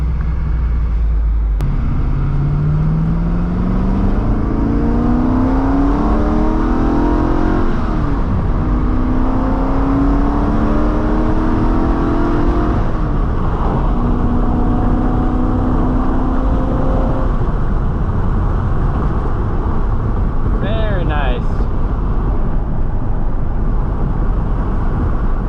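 A Corvette C5 Z06 engine with a T56 gearbox revs and climbs through the gears while driving, pitch rising then dropping with each shift, loud and steady with constant road roar underneath.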